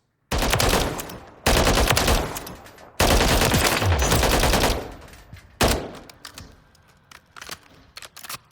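H&K G36K rifle in Call of Duty Modern Warfare III firing on full auto in three long, loud sustained bursts, followed by scattered mechanical clicks and handling noises as the shooting stops.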